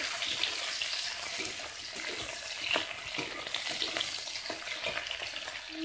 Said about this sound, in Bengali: কড়াই তেল দিয়েছি, চিংড়ি মাছগুলো হালকা করে ভেজে নেব।